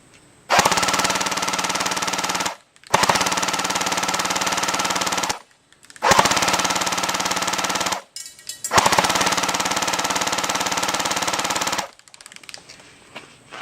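A Tannhauser Gate M2H airsoft gun rattles off four long, rapid full-auto bursts of BBs at a tree outdoors, each a dense mechanical buzz separated by brief pauses, loud and close.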